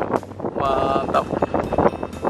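Strong wind blows across a rice field in the late afternoon while a small, colourful Balinese cotek kite is flown, buffeting the microphone in loud, uneven gusts and rumbles.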